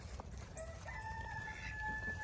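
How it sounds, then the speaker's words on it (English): A rooster crows once, a drawn-out strained call rising and holding, heard at moderate distance over a low background murmur. "Do you hear the rooster?"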